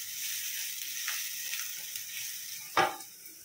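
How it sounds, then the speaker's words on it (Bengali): Three large garlic cloves fry lightly in a pan for paneer bhurji, giving a soft steady sizzle that holds throughout, with one sharper scrape or clink near the end. "এই যে এইটা আমি হালকা করে ভেজে নেব"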